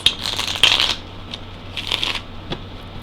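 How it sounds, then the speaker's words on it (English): A deck of cards shuffled for a tarot-style reading: a riffling, papery flutter in two or three bursts, fairly close and clear, with a soft tap near the end and no talking. "I'm going to shuffle once"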